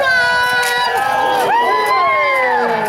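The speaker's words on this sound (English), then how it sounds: "Ladies and gentlemen, cheer on!" Loud crowd at a medieval jousting tournament cheering and whooping together, with shouts and children's voices rising over a sustained roar that swells midway through.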